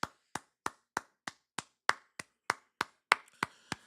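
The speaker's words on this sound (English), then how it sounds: "Let's go ahead and give a round of applause." One person on a wrestling review podcast claps slowly by hand, about a dozen sharp, evenly spaced claps, close and crisp, with silence between them and no talking.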